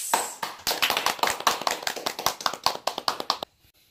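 Students clapping in a classroom: a quick run of sharp, close hand claps in an uneven rhythm for about three seconds, then sudden quiet.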